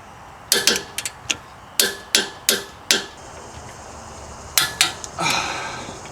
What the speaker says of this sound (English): For the lower strut mount bolts, I'm gonna torque them to 156 foot-pounds.